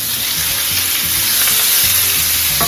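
Sliced meat sizzling as it is dropped into a hot pan with toasted garlic for crispy chopsuey, a loud, steady, close frying hiss with faint stirring, no talk.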